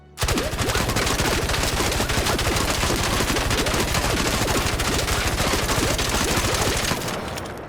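Torrente automatic weapon in the ARC Raiders video game firing one long, loud, sustained burst of rapid, evenly spaced shots for about seven seconds, then stopping abruptly with a short fading tail.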